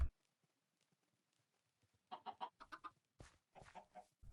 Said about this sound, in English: I don't want to look at it or hear the chickens because they're annoying